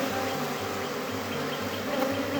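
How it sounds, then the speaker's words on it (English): Honeybees buzz around an open hive while a queen is released, a dense, steady close hum from many bees with no talking over it. "I'm going to give them some smoke to get some of these bees away from it"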